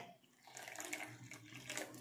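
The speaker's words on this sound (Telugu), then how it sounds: "మనం మిక్సీ పెట్టినాము కదా, దాంట్లోనే మనకు నీళ్ళు పోసేస్తాం" Water is poured into a mixer jar holding ground leaves for a homemade herbal hair dye. A steady close trickle swells and splashes for about two seconds, with no talk.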